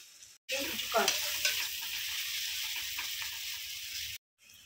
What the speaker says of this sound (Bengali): পেঁয়াজটা একটু ভাজা ভাজা করে নিয়েছি। রসুন বাটা দিয়ে দিচ্ছি